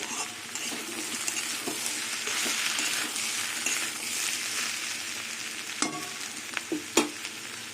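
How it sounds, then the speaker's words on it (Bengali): Ivy gourd with potato and onion fries gently over a low gas flame, giving a soft, steady sizzle with stirring scrapes and a few sharp utensil clinks toward the end. "এই ভাজাটা কিন্তু গ্যাসের আগুনটা একদম কমিয়ে দিয়েছি নাহলে পুড়ে যাবে আস্তে আস্তে ভাজতে হবে"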